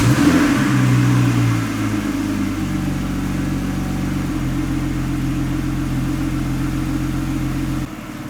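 A Lotus Evora engine revs briefly, then settles into a steady, close idle that runs on alone, with a slight drop near the end.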